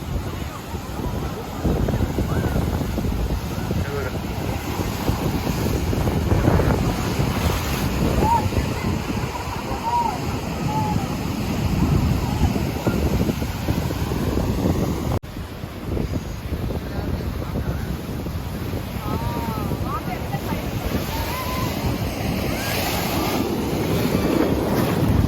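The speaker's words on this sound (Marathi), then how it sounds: "हा बघू शकता तुम्ही किती मोठ्या लाटा येतात इथे." Big sea waves crash continuously on a beach in Goa, a dense, steady roar of surf that fills the whole stretch, with faint voices now and then.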